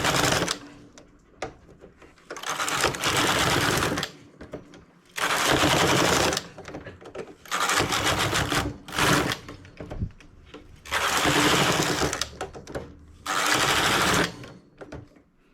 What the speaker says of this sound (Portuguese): Eu noto que as agulhas da máquina não estão trabalhando de acordo.